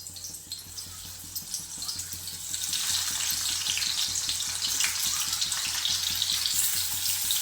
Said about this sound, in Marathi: तेल घालून गरम झाल्याच्या नंतर आपण याच्यामध्ये हे कारले घालून घेणार आहोत